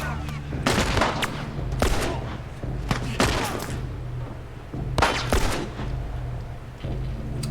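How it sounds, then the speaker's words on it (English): Bursts of gunfire from the game The Last of Us, several separate volleys of shots spaced through the scene over a steady low rumble of background ambience. "Someone's shooting me from somewhere."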